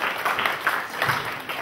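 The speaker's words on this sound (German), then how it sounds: "vielleicht ein kurzer Applaus für Sie." Brief burst of scattered hand clapping from a small crowd at a Ghana festival in Cologne, fairly soft, lasting under two seconds.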